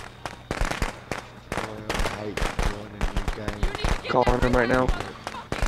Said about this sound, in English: I'm gonna throw firecrackers